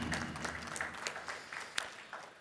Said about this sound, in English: For these donors, I need a round of applause